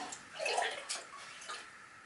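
Acid poured out of a container with a jug during gold recovery from mobile phones, a soft close liquid trickle and splash with a few faint drips.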